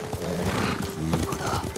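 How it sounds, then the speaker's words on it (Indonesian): A horse in Ghost of Tsushima lets out a loud, close neigh mixed with hoof clip-clops and a rough, rumbling whinny, with no talking. "Pakai kuda lah, pakai kuda."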